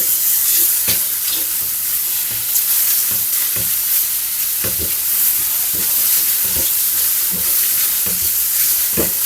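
A creamy mushroom risotto with Paris and shiitake mushrooms is stirred with pepper and a pinch of salt, bubbling and sizzling loudly up close, with regular scraping strokes of the spoon around the pan.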